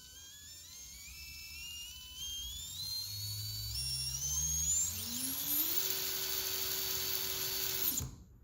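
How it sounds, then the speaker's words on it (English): The electric motor of an SCX24 RC crawler with its stock plastic transmission spins up near the listener, a whine that climbs steadily in pitch for several seconds before cutting off abruptly. "So let's go ahead and spin this motor up."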